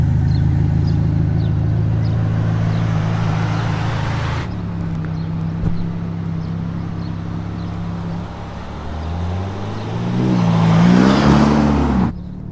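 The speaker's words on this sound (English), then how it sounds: "Let's go. First drive of the Roma." A Ferrari Roma pulls away and accelerates, its engine droning steadily, then dipping before building into a rising rev toward the end, heard from inside the car with no talk.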